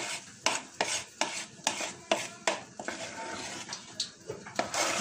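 A spoon or whisk stirs gâteau chateau batter in an oiled metal tray, giving quick regular scraping strokes at a brisk, steady rhythm, close and fairly soft.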